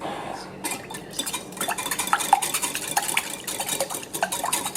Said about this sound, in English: Always whisk the dry ingredients first, then you'll only need 1 whisk.